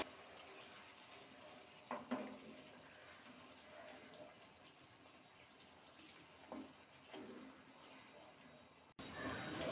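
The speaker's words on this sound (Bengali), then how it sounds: "এবার কিন্তু এর মধ্যে জল অ্যাড করে দেবো।" Water pours into fish curry masala for a pabda fish recipe, heard as a soft continuous rushing splash beneath quiet talking, with a brief louder burst of noise at the end.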